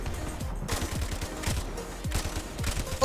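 A weapon fires with recoil in Call of Duty: Modern Warfare Remastered, about five sharp, evenly spaced heavy shots ringing out loud and near over a busy backdrop of game noise.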